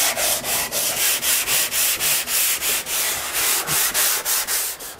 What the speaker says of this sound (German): Dazu nutze ich dann immer hier diesen kleinen Dreieckschleifer.